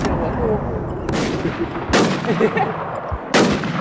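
Gunfire in the video game WarZ II, with sharp loud bursts of shots hitting at intervals over a busy noisy bed, with faint voices underneath.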